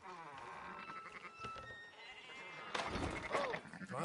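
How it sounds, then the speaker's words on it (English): Sheep bleating in the Red Dead Redemption 2 video game, a couple of wavering bleats near the end over game ambience and soft background sounds. "Fine sheep."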